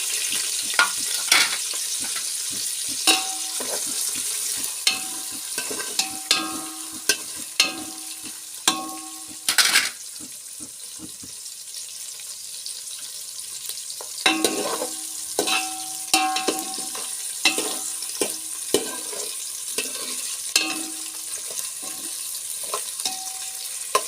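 A sweet dish (surukumbi) bubbling in a pot while a spoon scrapes and stirs it, sharp metallic knocks and scrapes repeating irregularly over a steady, close simmering hiss.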